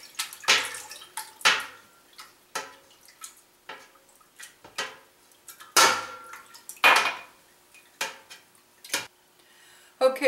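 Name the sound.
ladle moved up and down in milk while adding rennet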